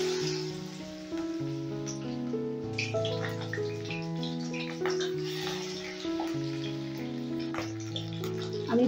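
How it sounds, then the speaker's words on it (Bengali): Fish pieces dipped in gram flour (besan) batter sizzle and crackle steadily in hot oil, a soft continuous frying hiss under prominent melodic background music. "এবারে আমি বেসনে চুবিয়ে চুবিয়ে মাছগুলো ছেড়ে দেব।"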